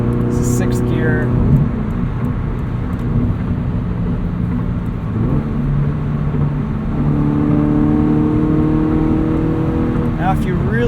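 A Subaru BRZ fitted with a catted header and tune cruises in sixth gear, its engine a steady, loud low drone with road and wind rumble throughout and a brief rise in tone near the end.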